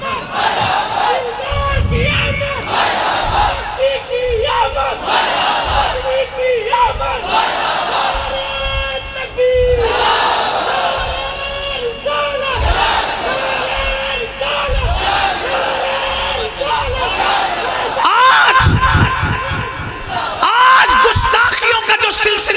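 A large crowd at a religious gathering chanting slogans in loud unison, repeated roaring call-and-response bursts that swell and fall over twenty seconds, with a voice leading between the chants.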